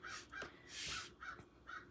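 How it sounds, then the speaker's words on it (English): A big crow caws outside, several harsh repeated calls in an uneven rhythm, faint and distant, with a brief hiss of background noise between them. "Listen to that crow outside."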